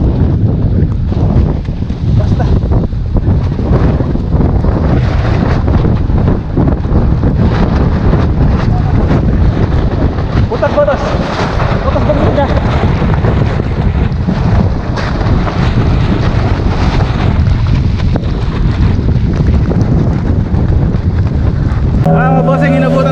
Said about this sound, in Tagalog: Mga bossing, inabutan tayo ng bagyo.